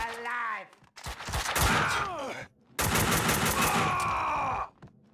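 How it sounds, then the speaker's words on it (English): Gunfire from the Max Payne 2 video game, with bursts of rapid shots and dense fusillades filling the scene, broken by short pauses, loud and close. "Someone must have heard the gunfire."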